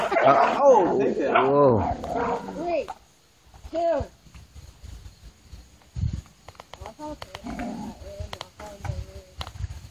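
Puppies yip and bark in short, high bursts, with a voice and other chatter mixed in around them.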